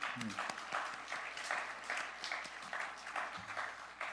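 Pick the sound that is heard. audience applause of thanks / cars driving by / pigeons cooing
audience applause of thanks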